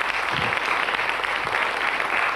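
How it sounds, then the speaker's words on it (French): Dense, steady applause from a TV studio audience, many hands clapping close together at an even loudness throughout, with no talk over it. "en compagnie du public du studio Gabriel qui vous applaudit"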